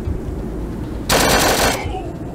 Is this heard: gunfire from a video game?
yes